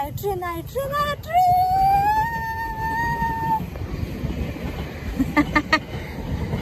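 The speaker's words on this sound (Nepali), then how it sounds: "ट्रेन आयो गाइस ट्रेन" A train rumbles nearby while a long tonal horn blares, gliding upward and holding, followed by a short series of rhythmic clanks.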